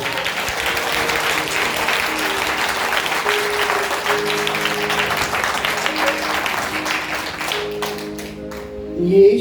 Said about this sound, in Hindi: तालियां बजाएंगे यीशु के लिए